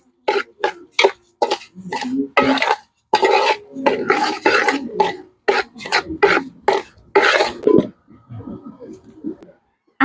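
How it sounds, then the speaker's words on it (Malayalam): Close, irregular scraping and rasping as a utensil stirs rice grains roasting in a hot pan over an outdoor hearth, in quick repeated bursts. "നമ്മൾ ആദ്യം നമ്മുടെ അരി വറുത്ത് എടുത്ത് മാറ്റി വെക്കാൻ പോവാണ്"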